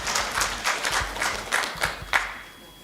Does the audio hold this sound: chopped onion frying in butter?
no